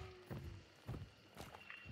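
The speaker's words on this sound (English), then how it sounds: "I hear something stomping around. That would be the butcher." Heavy stomping footsteps of the butcher in a horror video game, several slow, uneven thuds at moderate distance, fairly faint against a quiet background.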